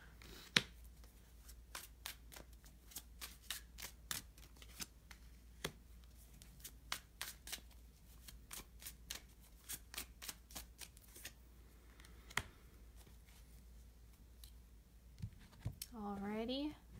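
Oracle cards being shuffled and drawn for a three-card reading make a rapid series of crisp riffling clicks and snaps, close and fairly quiet, with brief pauses between bursts and a short stretch of talking near the end.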